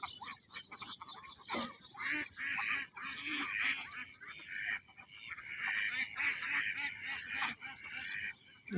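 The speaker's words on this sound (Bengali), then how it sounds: "আর শব্দ দেখছেন, হাঁসের প্যাক প্যাক প্যাক প্যাক শব্দ।" A flock of ducks on a duck farm quacking and honking in busy, overlapping bursts, fairly close and steady throughout.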